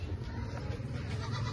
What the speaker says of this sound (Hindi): ये आ गई बकरी, ये आ गया जी बकरा